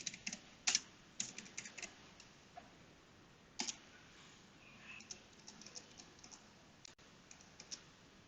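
Computer keyboard keys tapped while entering a password: a few quick bursts and scattered single clicks, close and fairly soft, with no talking.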